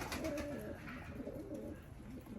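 Tumbler pigeons cooing close by in a steady, overlapping murmur of soft, low coos, with faint background hiss and no talking.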